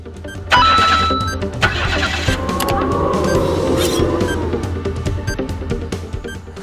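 Car weaving between cones on a manoeuvring course, engine starting up and then running at a mid-pitched idle and gentle revs, moderately close, with some clattering and light background noise.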